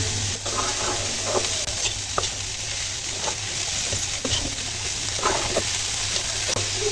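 Leftover rice being stir-fried with garlic, spring onion and green chillies, a steady close sizzle with occasional scraping stirs of a spatula against the pan, continuous and without talk.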